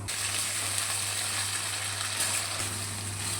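Cut potatoes hit hot oil in a pan with whole dried chillies and cumin seeds, giving a steady, close sizzle and hiss with a constant low hum underneath and no talking.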